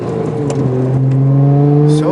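Nissan R33 GT-R engine accelerating during a test drive, a steady rising engine tone heard from inside the car with a few brief knocks, loud and continuous throughout.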